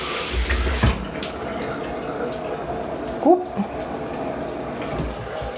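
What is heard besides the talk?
Hibbent shower head running water on waterfall setting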